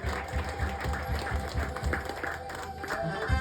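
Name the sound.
church congregation clapping for the Lord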